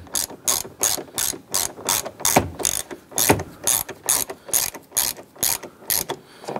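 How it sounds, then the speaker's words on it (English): Rapid ratchet clicking in repeated short bursts as bolts are driven into the A-pillar trim of a 2002-2008 Dodge Ram 1500, close and fairly loud, with no talking. "Let's go ahead and install the bolts on the top and bottom."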